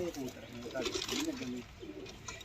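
Pigeons coo in soft, repeated rolling calls, fairly close and steady through the moment, with a faint murmur of background voices.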